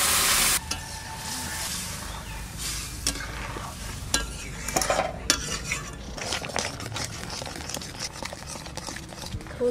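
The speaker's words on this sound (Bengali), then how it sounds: "তুলসি দিয়ে আমি ভালো করে ঘেঁটে নিচ্ছি" Lentil dal with basil being stirred in a pot with a metal spoon, giving irregular scraping clinks against the pot over a soft low sizzle, close and moderately quiet.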